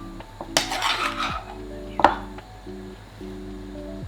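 A spatula scrapes and taps against a dish while mashed potato is spread over minced beef, giving a few close clinks and soft scraping strokes over a steady background hum.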